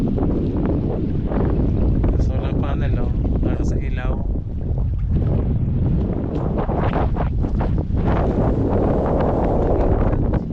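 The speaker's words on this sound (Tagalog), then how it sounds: "Grabe lakas ng hangin." Strong, steady wind roars and buffets the microphone throughout, while a person speaks briefly over it.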